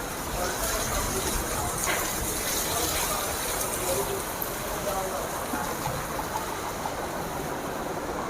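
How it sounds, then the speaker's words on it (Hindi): Rainwater gushing through a pipe during the rainy season, a steady, dense rushing flow of water that continues unbroken throughout, close and fairly loud, with no break in the sound. "देखो पाइप में को पानी कैसे चल रहे हैं।"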